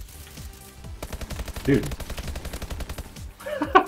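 Video game gunfire as bursts of rapid shots under a voice, a louder volley near the end, played on a stock Xbox One controller.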